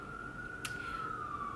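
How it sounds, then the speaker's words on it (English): A distant emergency siren holds one steady tone under a low background hum, with a brief faint click partway through. "sorry for the siren."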